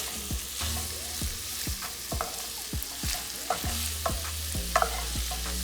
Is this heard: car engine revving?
no